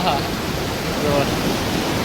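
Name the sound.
water rushing over overflowing Chavand village lake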